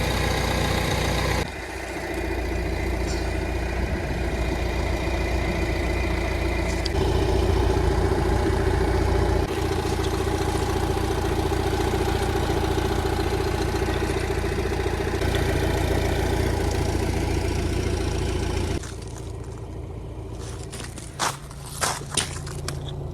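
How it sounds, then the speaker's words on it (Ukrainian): A 2015 Renault Espace 1.6 diesel engine idles steadily and evenly at close range for a long stretch, with a low constant rumble, ending in a few clicks and knocks. "Двигун працює гарно, рівно."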